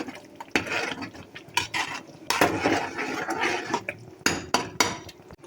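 Okra being stirred into a meat and okra stew in a pot, with repeated clattering scrapes and knocks of a spoon against the pot in an irregular rhythm, close and moderately loud.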